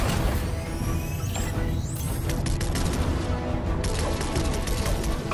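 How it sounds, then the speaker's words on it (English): Laser cannons on a battle bus firing at drones in a video game: a dense, continuous barrage of crackling blasts and bursts, loud throughout with sweeping tones in the first half. "I was hoping we'd have an excuse to try out the battle bus's laser cannons."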